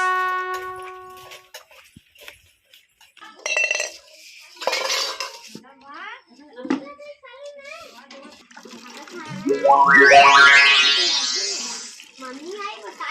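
Metal dishes, pots and cutlery clink and clatter as they are gathered up and carried to an outdoor tap for scrubbing, in scattered sharp knocks mixed with water splashing, under loud talk from a woman and a child.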